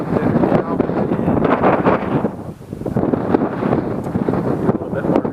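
Strong wind blows outdoors at a backpacking camp in Capitol Reef, buffeting the microphone with loud, continuous roaring gusts that ease briefly midway before surging again.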